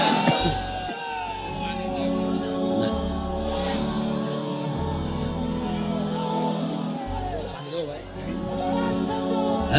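A large crowd at a sermon in Jashore roars the takbir chant in unison, loud repeated collective shouts with strong voices forming sustained waves, close and filling the whole stretch.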